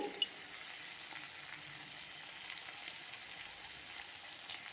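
Chicken frying in a pan for chilli chicken, a faint steady sizzle and hiss with a few soft clicks, quiet and alone without talk.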